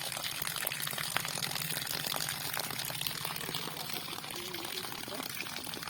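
Water from a newly installed tap runs in a steady, fairly quiet rush and splash while several voices talk nearby.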